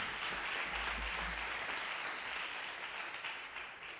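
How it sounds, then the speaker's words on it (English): At the Miss California 2017 welcome ceremony, pageant contestants and audience give a broad, continuous round of applause, full and steady before thinning slightly near the end, with a low rumble early on. "So a round of applause for yourselves."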